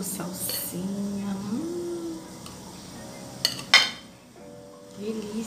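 A spoon stirs and scrapes through rice mixed with bacon, egg and parsley in a pan, with soft clinks and one sharper knock, and someone talks over the low scraping.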